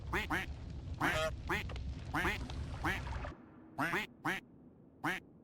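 A rapid series of loud, nasal duck quacks fires off in quick bursts as stream chat alerts, a dense cluster at first, then a few spaced single quacks after a short pause.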